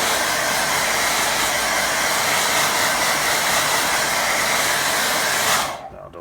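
A hair dryer blows steadily on a watercolour painting of grazing sheep, a loud, even rushing hiss that runs unbroken for several seconds before switching off near the end.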